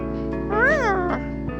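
A cat in the Coffee Talk video game gives a single clear, rising-then-falling meow, close and prominent over a steady hum of background music.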